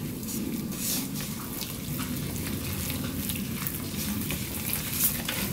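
A 500 g batch of powdered malt (yeotgireum) is mixed by hand into a liquid base for radish syrup. A continuous wet swishing and sloshing runs steadily throughout, close and even, with no talking.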